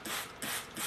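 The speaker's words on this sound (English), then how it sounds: "spray your microgreens down" Plastic spray bottle trigger misting broccoli microgreens in a tray, three quick close squeezes in a row, each a short hissing spray with a mechanical click.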